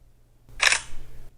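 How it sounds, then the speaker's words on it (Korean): A single quick shutter click from a smartphone camera app, a crisp synthetic snap lasting well under a second. It is close and clear against a quiet room hum, with no voice. "이 찰칵이 셔터가 내려오는 소리거든요"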